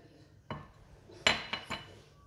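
A metal spoon clinks a few times against a bowl while mixing sugar and honey into a homemade skin scrub, with sharp separate taps and scrapes that are close and fairly quiet.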